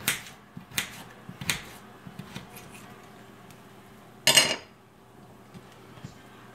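A kitchen knife cuts through raw potatoes for homemade French fries, giving a few sharp, close chops at a slow, uneven pace, with one louder, denser burst of cutting near the end and quiet pauses between strokes.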